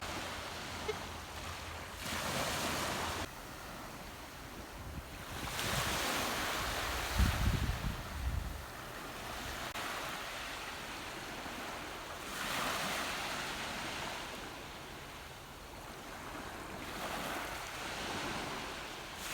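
Ocean waves at a Cape May beach at sunset roll in and wash out in slow repeating swells, a soft broadband surf with wind buffeting the microphone and one heavier thump of rumble partway through.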